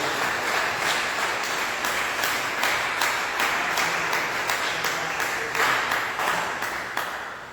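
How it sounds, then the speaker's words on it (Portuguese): A church congregation claps and applauds together during a worship service, a dense, steady wash of hand claps that holds for several seconds before gradually fading out. "dê uma salva de palmas com alegria ao nosso Senhor Jesus"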